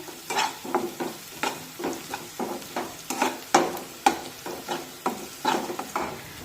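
Onion being sautéed in a pan over a medium gas flame for a Maharashtrian dry bean vegetable: close, steady sizzling of frying with repeated scraping stir strokes at a regular rhythm, no voices.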